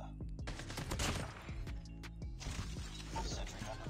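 Gunshots in Call of Duty Mobile, fired with a Damascus BY15 shotgun during a match: a rapid run of sharp, punchy blasts in quick succession over a low, rumbling game backdrop, close and prominent.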